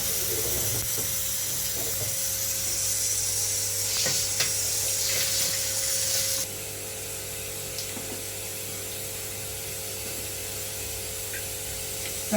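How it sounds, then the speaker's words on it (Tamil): Cumin seeds sizzle and crackle in hot oil in a pan while making intestinal broth, a steady loud frying hiss with small pops that eases slightly partway through, with no talking. "இப்போ சீரகம் போட்டுக்கலாங்க. அது பச்சை போட்டால் கருகிடும்."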